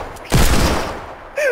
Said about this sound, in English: I'll shoot at you from the floor.